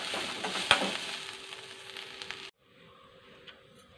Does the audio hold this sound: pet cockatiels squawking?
no